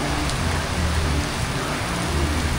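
Heavy rain pours steadily under a tree somewhere in Mexico, a dense, constant hiss and patter with a deep rumble underneath, close and unbroken.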